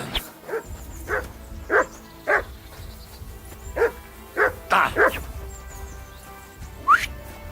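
Dog barking in Kingdom Come: Deliverance II, a medieval open-world game: roughly ten sharp, mid-range barks and yips at an uneven pace, fairly close and clear over a quiet game-world background.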